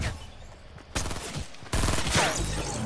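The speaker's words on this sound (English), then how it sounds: "There's one shooting you to your right, mate." Rapid gunfire in a first-person shooter game, dense bursts of automatic shots that grow louder and more continuous midway, then hold as a steady loud barrage.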